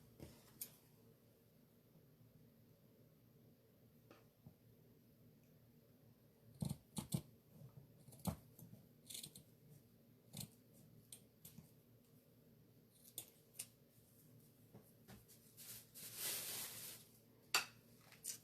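Scissors snipping through fleece fabric in scattered short cuts against a quiet background, ending with a louder rustling swish.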